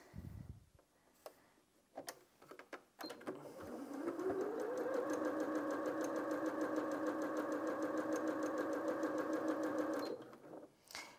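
A Janome M200QDC sewing machine runs a straight stitch at the default width and length, a steady rapid mechanical whir with rhythmic needle ticking that holds for about six seconds, preceded by scattered handling clicks.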